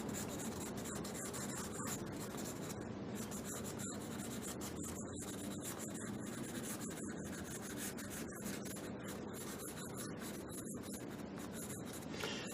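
Pencil scratching quick, rough strokes across paper in a steady stream of short rasping sounds that continues without pause, close and fairly quiet, with no talking.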